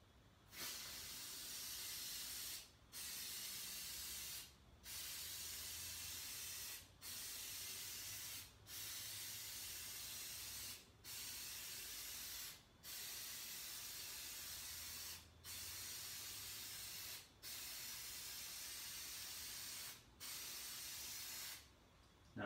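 K&N air filter oil sprayed onto a cleaned filter from about three inches away, a steady loud hiss in about nine bursts of roughly two seconds each, separated by brief pauses.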